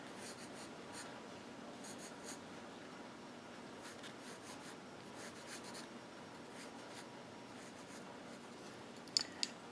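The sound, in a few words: pencil drawing on paper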